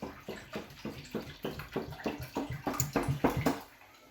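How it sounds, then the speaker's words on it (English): Organic milk is poured into a saucepan in a series of glugging, splashing pulses, roughly evenly spaced, close and moderately soft, ending with a brief quiet. "put your milk in your saucepan"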